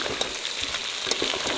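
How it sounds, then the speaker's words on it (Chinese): Aromatics are stir-fried in a wok until fragrant while cooking in the Borneo rainforest. Close, steady sizzling is broken by quick scraping stir strokes, with no voices. "水分烧干了，给它爆香。"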